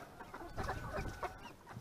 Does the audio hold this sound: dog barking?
no